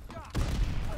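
A gunshot fired in Call of Duty: World War II, one burst of broadband noise that lands partway through and rings on with low rumble. A faint voice can be heard under it.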